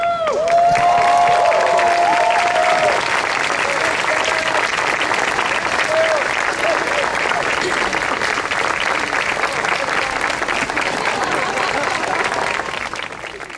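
Sustained loud applause from a commencement audience at Oglethorpe University's 2015 graduation, dense steady clapping with scattered cheers and whistles continuing throughout before easing slightly at the end.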